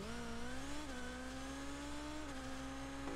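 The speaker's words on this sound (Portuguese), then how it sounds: "Temos mais um som de motor." Sports-style car engine sound from the Rocket League video game, a faint sustained motor hum with a few small shifts in pitch, heard on its own without talk.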